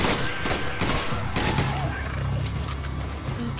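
Shotgun blasts in the video game Resident Evil 5, several sharp, loud reports in quick succession over a busy, noisy game backdrop.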